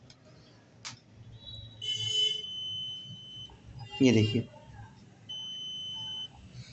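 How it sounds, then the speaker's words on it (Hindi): A multimeter in continuity beep mode, its probes shorted together, sounds a steady high electronic buzzer tone in a few sustained bursts while someone talks nearby. "ये बजर की आवाज आ रही है अभी फिलहाल।"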